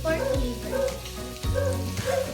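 Pork browning in a pan gives a steady sizzle, with a few sharp stirring scrapes and clatters; a voice speaks faintly over it.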